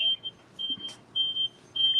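A phone rings with short, bright electronic trills in regular repeating bursts, loud and close, with soft room noise between the rings.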